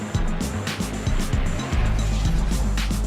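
Monster trucks race in a stadium, their engines roaring loud and close in rising and falling revs with a brief tire squeal.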